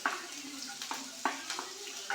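Garlic and ginger frying in coconut oil in a pan, with soft crackling and sizzling bursts recurring about every half second, close by with no talk.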